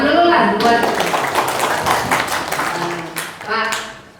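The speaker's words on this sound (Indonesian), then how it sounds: "Tepuk tangan dulu lah buat" Brief clapping from the audience at a residents' gathering about a land dispute over a power plant in Cirebon, with talk mixed in and the clapping fading toward the end.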